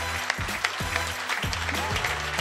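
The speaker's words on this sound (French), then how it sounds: "de vous lever, de vous applaudir, mais bien sûr de les applaudir" Audience applause fills a hall during a foundation launch evening, a steady wash of clapping under rhythmic background music with a thumping beat.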